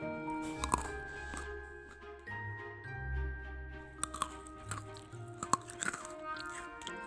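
Crunchy cheese telur gabus, a fried Indonesian snack, being bitten and chewed, with several sharp crisp crunches and softer chewing between them, close up over faint background music.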